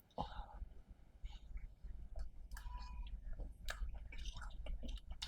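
Someone chewing hot home-cooked food in a kitchen, soft wet mastication and bites recurring close up, with quiet background noise and occasional faint voices.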